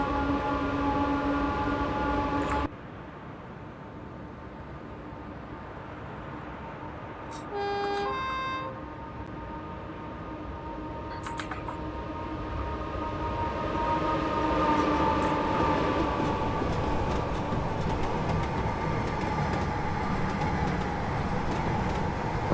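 A Class 86 electric locomotive in a train simulator game gives a steady electrical hum and rolling rumble that swells over time, with brief tonal beeps and clunks partway through.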